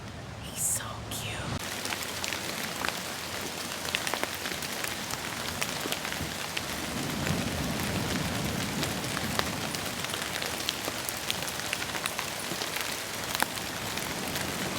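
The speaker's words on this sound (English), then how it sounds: "It's a rainy West Coast day here today." Steady rain patters and hisses on a surface on a wet West Coast day, a dense even wash of drops with a soft low rumble swelling midway; a brief faint murmur near the start.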